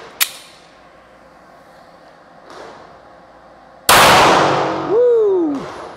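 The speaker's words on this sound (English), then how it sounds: "First shots with the P7." Nickel-finish H&K P7 pistol fired: a sharp shot at the start, a softer report mid-clip, then a loud crack whose ringing decay carries a rising-falling whistle-like tone.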